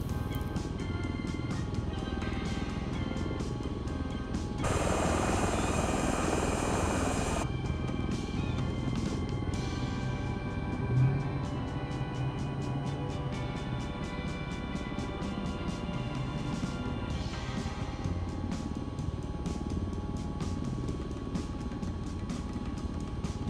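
V-22 Osprey engines in Microsoft Flight Simulator run as a continuous tonal drone with steady harmonic whine, holding level throughout, with a short broadband surge partway through and no talking over it.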